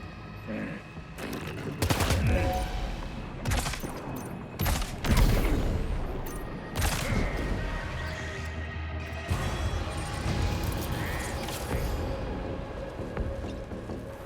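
Gunfire in the video game Death Stranding 2: On The Beach, with repeated loud shots and bursts fired in clusters, some heavy booming impacts mixed in over a busy combat background.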